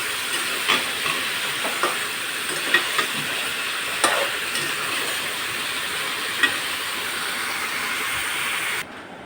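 Bottle gourd sizzles steadily while being stirred and sautéed in a pan, with scattered sharp clicks of the spatula against the metal and a continuous frying hiss throughout.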